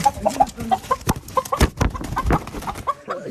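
Desi chickens cluck repeatedly in short, choppy bursts, close by, with several hens calling over one another in an irregular rhythm.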